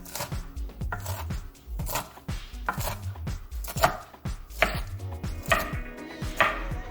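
Knife chopping lettuce on a cutting board for a lemony Parmesan shrimp salad, a quick run of crisp, close, steady chops with no talk.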